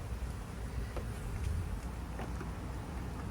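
A honeybee swarm buzzing faintly, a low continuous hum of bees with soft brief swells, quiet and unbroken by talk.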